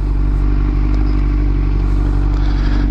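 Yamaha R1 RN09 sport motorcycle on the road, its engine giving a loud, steady low drone with a strong rumbling hum and some wind noise, held at constant speed without obvious revving.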